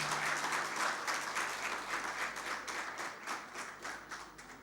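An audience at a university Olympics Day celebration gives a hall full of steady applause for Talha, many hands clapping together in a soft, continuous patter at a moderate distance that slowly thins toward the end.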